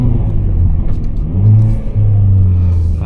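A 2024 Hyundai i30N engine is held at about 3,200 RPM for launch control, a close low rumble that surges into two sustained revving swells.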